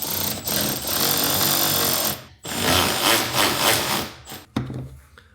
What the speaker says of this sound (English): start threading our bolts in.